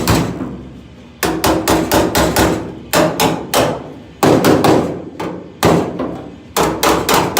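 Hammer blows on welded metal being formed, heavy ringing strikes in quick bursts of three to five separated by short pauses, loud and close with no talk.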